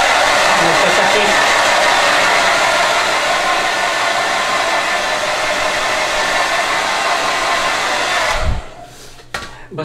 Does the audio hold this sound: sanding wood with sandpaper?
no